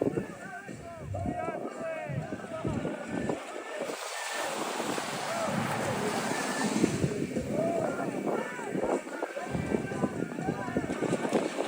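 Strong wind buffets the microphone at Coney Island beach in winter, roaring steadily with gusts, while a person talks over it and waves and surf wash faintly beneath.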